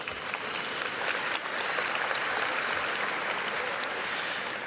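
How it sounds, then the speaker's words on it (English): Audience at a mayor's State of the City event in Cleveland applauding, a dense, steady wash of clapping from a large crowd that holds evenly for several seconds with no talk over it. "Please, a round of applause for PNC."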